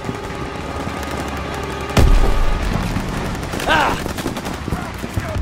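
Gunfire in a Call of Duty WW2 battle on the Rhine mission, with a sharp loud shot near two seconds, then rattling automatic fire and combat noise while voices shout over it.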